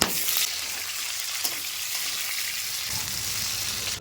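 Cut potatoes frying in hot oil alongside pointed gourd, a steady close sizzle that continues evenly with a brief stirring clatter near the end.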